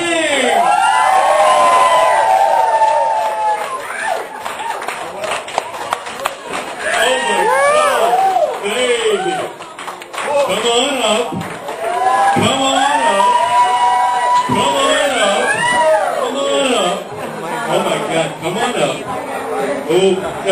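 Party crowd cheering and whooping at a book premiere party as performers make their way to the stage, loud and continuous, with shouts and voices talking throughout.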